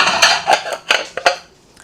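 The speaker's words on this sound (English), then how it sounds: "I'm gonna put the dishes that are clean out of the dishwasher" Clean dishes come out of a dishwasher in a home kitchen with a quick series of sharp ceramic and cutlery clinks, about five close, bright knocks within two seconds and no talking.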